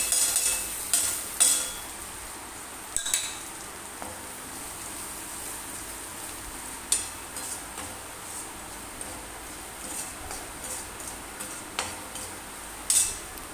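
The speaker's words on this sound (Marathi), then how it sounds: "कढीपत्ता, कांदा टाकल्यानंतर व कांदा थोडा लाल झाल्यानंतर त्याच्यात मीठ, मिरची, हळद हे टाकून घ्यायचं।" Onion and curry leaves frying in a pan with salt, chilli and turmeric, a soft steady sizzle punctuated by light clinks and scrapes of a stirring spoon, close and fairly quiet.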